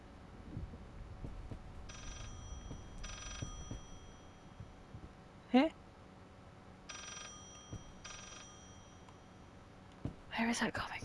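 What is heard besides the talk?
telephone ringing in the video game Layers of Fear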